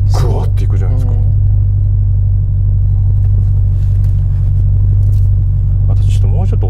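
A Ferrari California T Handling Speciale engine and exhaust drone with a deep, steady low rumble from inside the car, while people talk loudly over it.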